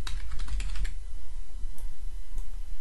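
Someone types a new password on a computer keyboard, a quick run of close key clicks followed by a few scattered taps over a low hum, with no talking.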